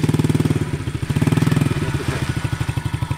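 Dirt bike engine revving gently as it accelerates slowly, a steady close, mid-pitched chugging pulse that rises slightly and keeps a regular beat throughout.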